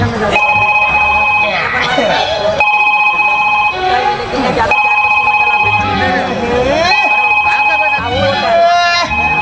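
A telephone rings in repeated electronic trills after someone dials 108, with people talking loudly over it throughout.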